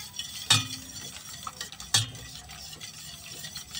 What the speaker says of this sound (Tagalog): Huwag natin tigilan haluin